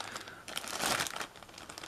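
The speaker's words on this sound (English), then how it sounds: "inside they come in a plastic bag as well" Resin model buildings in 1:76/1:72 scale rustle inside a thin plastic bag, close crinkling that builds to a loud burst of crackle in the middle and then settles back to lighter handling.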